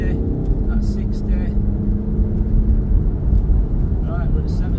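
A 2015 Land Rover Range Rover Evoque 2.2 SD4 diesel automatic 4WD accelerating up to 70 mph, heard from inside as a steady engine drone with rising road roar and brief voices over it.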